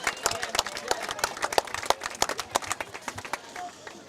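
Crowd at a high school football game gives a round of applause for the chain gang, dense irregular clapping rising and fading with crowd noise mixed in.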